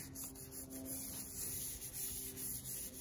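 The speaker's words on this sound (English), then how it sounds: "And I'm wet sanding this, um, this whole thing." Steady, soft rubbing and rasping of hand sanding on a surface, continuous and fairly quiet with no voices.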